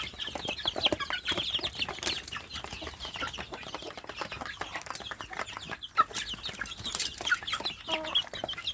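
Free-range village chickens clucking and a rooster calling in a busy farmyard, steady overlapping bird calls throughout with no talking.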